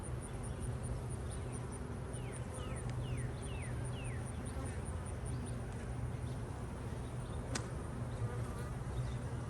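Honey bees buzzing steadily around an apiary hive during an inspection, a continuous low drone with a few faint high chirps above it, with no talking.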